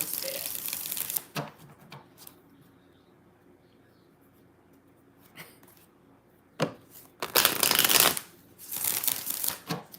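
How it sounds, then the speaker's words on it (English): A deck of tarot cards is shuffled in several riffling bursts, crisp and close, with quiet gaps between the shuffles. "So 5 shuffles for Beth"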